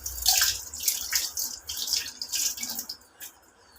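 Hands being washed under running water, with a close, splashy stream that rises and falls unevenly as the hands move through it, then eases off toward the end.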